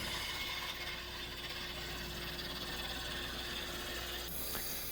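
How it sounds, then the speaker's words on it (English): A wood lathe spins at roughly 800 rpm as a spindle gouge trues up a small ornament blank, giving a steady close-up mechanical whir with a faint tonal hum and continuous scraping chatter, without pause or talk. "I'm just getting it trued up with a spindle gouge, and the lathe's running, I guess, about 800 or so."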